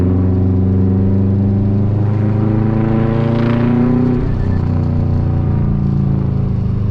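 A 2004 Subaru STI engine drones steadily in a lower gear from inside the car. The tone is loud and harmonic, its pitch shifting slightly as the revs vary, with no voices.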